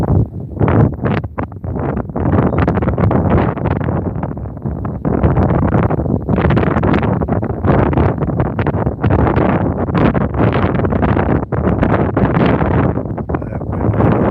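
Strong outdoor wind at a fireworks viewing field during Turkey Days in Frazee buffets the microphone in loud, continuous gusts and rumbles, close and heavy, with no other sound clearly standing out.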